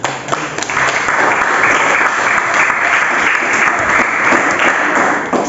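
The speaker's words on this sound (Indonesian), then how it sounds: "Oh ya, betul, tepuk tangan." Classroom applause at a junior high school in Bogor, Indonesia: a steady, dense patter of many hands clapping close by for about five seconds, without talk.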